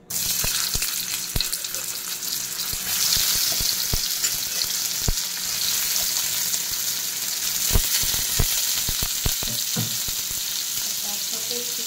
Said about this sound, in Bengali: এবার আমি এর মধ্যে সেদ্ধ করা ছোট ছোট আলু দিয়ে দেবো।